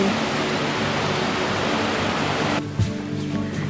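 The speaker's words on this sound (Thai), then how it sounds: "เป็นลำธารดีมาก สวยมากเลย" A mountain stream flows near a riding station high in the Kyrgyz mountains, giving a steady broad rushing wash that drops and thins abruptly near the end as something clatters briefly.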